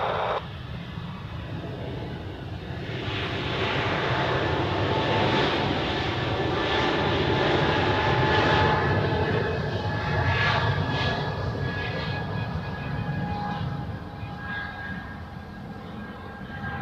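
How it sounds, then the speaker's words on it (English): An Air France Airbus A220 jet taking off from runway 28 at Zurich Airport, a broad engine roar swelling over several seconds to a steady loud peak, then slowly easing as it moves away, with no voices. "on the runway 28 we have Air France with an A220 outbound to Paris"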